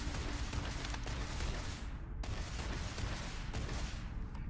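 Heavy gunfire fills a firefight in the sci-fi game Starfield, rapid overlapping bursts crackling continuously at a steady volume, with a brief lull partway through.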